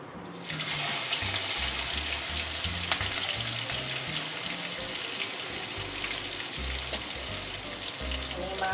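Mustard seeds, cumin and ginger-chili-garlic paste sizzle loudly in hot oil while masala dosa filling is made. The sputtering is dense and continuous after a quiet start, and no one talks.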